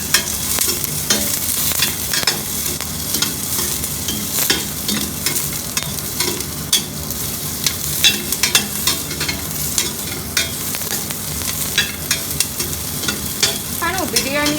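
Green chillies split in two sizzle and crackle in hot oil in a pan for biryani, with a continuous frying hiss and frequent sharp pops and stirring scrapes, close and steady throughout.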